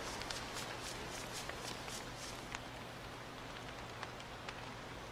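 Rain falls steadily in the video game Don't Starve as a constant soft hiss, with faint ticking drops scattered through it.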